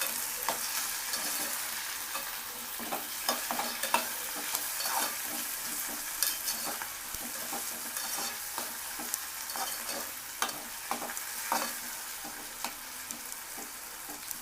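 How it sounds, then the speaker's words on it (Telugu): Chopped tomatoes sizzle and fry in a pan for a Chettinad chicken curry, with frequent scraping stirs of a spoon over a steady crackle, close and alone with no talk. "కట్ చేసి పెట్టుకున్నాం కదా, ఆ టమాటా వేద్దాం."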